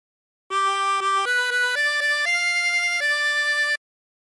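A 24-hole tremolo harmonica plays a short phrase of La Cucaracha as a run of sustained, shimmering notes that step upward in pitch, loud and close with no talking.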